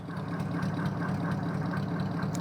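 1930s Ford flathead V8 fitted with dual exhaust and tubular headers, idling steadily at close range with a low, even burble and faint rhythmic pulsing, no voices.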